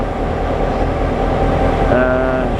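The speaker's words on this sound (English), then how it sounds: "This is the locomotive 2158" Tilt train locomotive 2158 sits at a station before departing from Brisbane toward Rockhampton, giving a loud, steady, close engine rumble with a rising tonal whine near the end.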